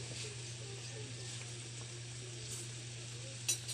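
Corn simmering in a pot for soup, a steady sizzling, bubbling hiss with a constant low hum beneath it, continuous and close, with a couple of brief clinks near the end.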